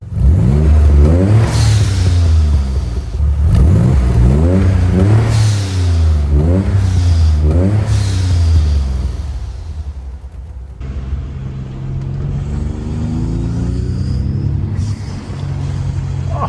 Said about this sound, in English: We'll give it a little courtesy rev.